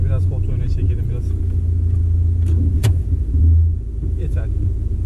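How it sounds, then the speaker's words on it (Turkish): A Skoda Yeti 1.6 TDI diesel with manual gearbox runs with a steady low rumble, close and continuous, while people talk over it. "Aracın motor sesi gayet güzel."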